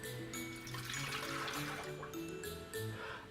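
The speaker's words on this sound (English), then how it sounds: "we're going to put in 1 1/4 cups of warm water" Warm water poured for baking, likely into a mixing bowl as the first step of a Christmas bread or dough, a steady continuous splash and trickle heard close up and alone for a few seconds.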